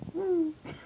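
A voice mimics a person's sleeping snore with a short, hooting, wheezy tone that slides downward, brief and fairly quiet, followed by a soft breathy sound.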